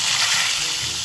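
Fish frying in hot oil for a Quezon Province papaya escabeche meal, a loud, steady, close sizzle with constant crackling hiss throughout.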